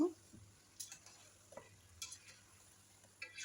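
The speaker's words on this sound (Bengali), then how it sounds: "আমি আলুগুলো দিয়ে আরও কিছুক্ষণ কষিয়ে নেব" Mutton and potatoes being stir-fried in a pan: a faint, steady sizzle with soft scraping stirs every half second or so, close by and without talking.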